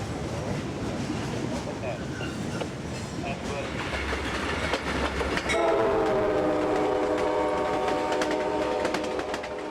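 A passing freight train hauls South Florida limestone at a Temple Terrace crossing in Tampa, rumbling loudly before a long, steady multi-tone horn sounds over the continuing rail noise.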